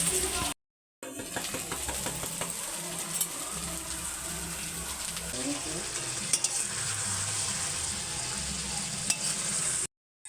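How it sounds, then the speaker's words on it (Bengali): A spatula stirs and scrapes mutton kosha in a sizzling pan, steady frying hiss with repeated scraping strokes close by, broken once by a brief gap of silence. "মটন রান্না করছি মটন মটন কষা"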